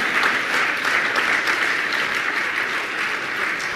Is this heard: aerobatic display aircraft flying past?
no